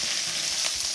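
Carrot, garlic and ginger tossed in a hot stir-fry pan, a dense, even, close sizzle that holds steady through a brief moment, with no talking.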